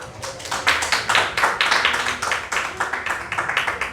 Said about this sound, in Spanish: Damos un aplauso a Dios por la vida de nuestro hermano Guillermo